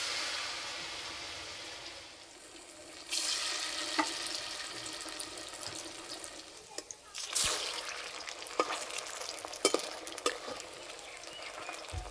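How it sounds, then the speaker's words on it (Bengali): Soybean rolls dipped in batter sizzle and fry in hot oil in a kadai, a steady crackling hiss with occasional sharp pops and clinks from handling. "এবার ভেজে নেব।"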